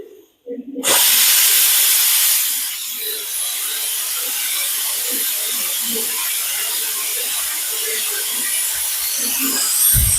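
Pressure cooker making veg pulao lets out a loud, continuous hiss of escaping steam that starts abruptly after a short quiet moment and holds steady, rushing and close.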